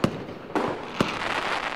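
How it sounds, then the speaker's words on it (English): Fireworks sound effect from GSPRO golf simulator software: three sharp bursts in quick succession, each followed by a crackling, sizzling tail that fills the room. "I don't know if I'd leave the fireworks on or not if I was just practicing"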